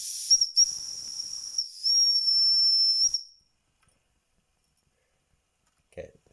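Wilesco D415 toy steam tractor venting steam: a loud, shrill whistle with hissing steam for about three seconds, then near silence broken by a brief click.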